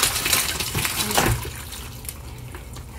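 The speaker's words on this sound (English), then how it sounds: "we're going to drain the water" Water from a pot of boiled jackfruit is poured off into a sink, a loud rushing splash at the start that tapers into a softer steady trickle and drip.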